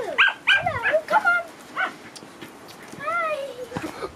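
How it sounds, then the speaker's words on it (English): A dog barks and yips in quick bursts, high-pitched and excited, with whiny whimpers between while playing with a ball, and people talking nearby. "It's just his noisy bark."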